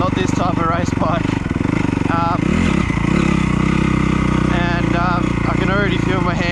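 A 2010 Honda CRF 250R dirt bike roars loudly and continuously while ridden, its engine note rising and falling with throttle changes, and someone talks over the noise throughout.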